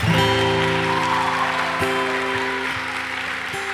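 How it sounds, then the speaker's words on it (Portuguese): Congregation applause during a Catholic Dynamus talk on the Eucharist, a loud bed of clapping over sustained musical tones, steady throughout. "Todo mundo, uma salva de palmas para ela."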